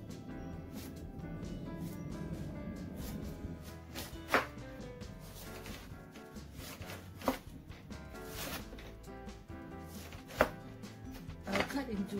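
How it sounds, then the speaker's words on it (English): Pineapple is cut into pieces with a knife on a board, a few distinct chopping thuds spaced several seconds apart over quiet rustling handling sounds. "I'll cut into pieces like that so that I'll put into a food processor to process it."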